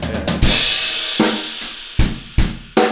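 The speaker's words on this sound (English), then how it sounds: "you can land with a nice crash and a kick drum at the same time" Loud, close acoustic drum kit: a quick one-measure fill of snare and tom hits lands on a crash cymbal with kick drum, followed by several more sharp crash-and-kick accents in a steady rhythm.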